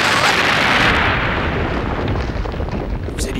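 A loud cartoon grenade explosion bursts at once and rolls into a long, dense rumble that slowly fades over a few seconds, with no voices over it.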